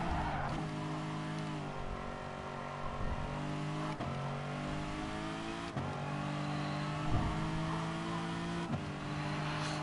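A race car in Gran Turismo at turn 3 of a GT Sport series round, engine droning steadily near and loud with a few sharp gear-shift or braking dips across the run, tires hinting at slip.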